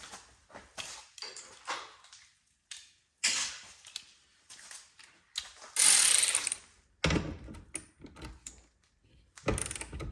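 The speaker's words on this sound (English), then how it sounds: "I haven't used this ratchet in a while" A ratchet wrench turning a 5/16 bolt while cutting apart a Ford Ranger cab, heard as bursts of clicking and mechanical rattling with short pauses between strokes, fairly close.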